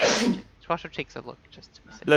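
A single sharp sneeze bursts out at close range at the start of a tabletop role-playing session, followed by people talking around a table.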